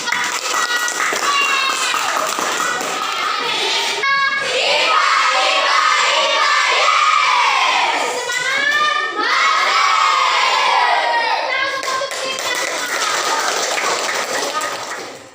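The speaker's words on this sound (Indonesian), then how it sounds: "Oke, teman-teman, beri tepuk tangan dulu" Classroom students applaud and cheer, with loud, continuous clapping mixed with excited shouting from many young voices throughout.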